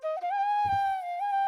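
A sampled flute phrase from a sample bank, dragged into FL Studio and not yet pitched or time-stretched: one sustained breathy tone with a slight bend near the start and a brief low thump in the middle, heard alone.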